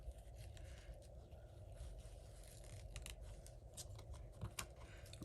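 Scissors snip and scrape at the ends of a ribbon tied in a knot for a handmade card, with quiet irregular cuts and rustles over a steady low background hum.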